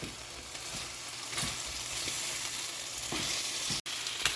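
Sausages sizzle and fry in a pan alongside scrambled eggs topped with melting cheese, a steady close crackle with a few stirring scrapes and a sharp knock near the end.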